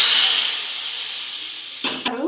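Hot oil hisses sharply as the tempering (popu) for a dal-free sambar goes in, a loud steam-like sizzle that slowly fades before a few clattering knocks at the end.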